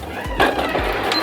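Sewing machine stitching a dress hem, a quick run of short mechanical thumps in steady rhythm, close and moderately loud with no talking.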